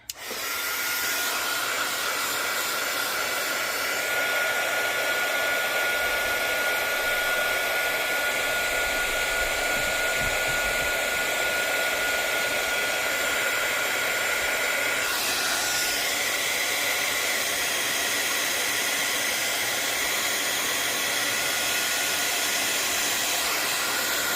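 Heat embossing tool blasting hot air over stamped card for a Stampin' Up! Light the Sky fun fold card: a loud, steady whirring hiss that runs unbroken for the whole stretch, with no talking.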